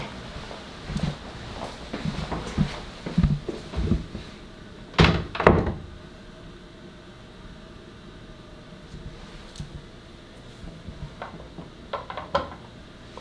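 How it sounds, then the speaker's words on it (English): Knocking on an office door comes as sharp thuds, a loud pair in the middle with softer scattered knocks before and after, over a quiet room hum. "it sounds like somebody is knocking"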